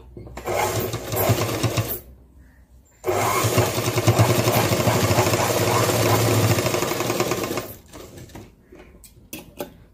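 A sewing machine stitches a folded fabric edge up close in a steady mechanical whir, with short bursts near the start, a long continuous run through the middle, then stops and a few light handling taps.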